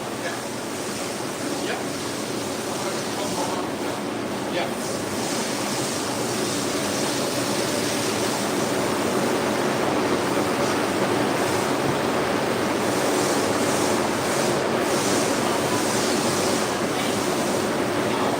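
Water from a hose sprays steadily onto a rug being rinsed, a constant broadband hiss and splash that carries on for the whole stretch with no pauses. Faint voices sit far beneath the noise.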